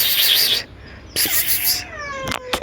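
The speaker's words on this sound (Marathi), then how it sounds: "मांजर बघा कशी काढते" A cat meows loudly several times nearby, drawn-out cries with short gaps, and a few quieter chirpy calls near the end.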